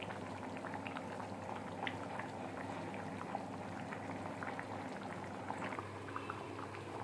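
Andhra-style fish curry with coriander leaves simmering in a pot, a continuous low bubbling and popping with soft gurgles, close but fairly quiet and steady throughout, with no voices.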